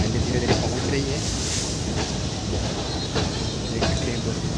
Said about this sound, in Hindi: फाइनली गाइस हमारी ट्रेन यहाँ पर फाइनली धीरे धीरे पहुँच रही है